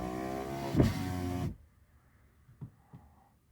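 A Tesla Model 3 electric window motor whirs steadily for about a second and a half, then stops, followed by a couple of soft clicks and thumps.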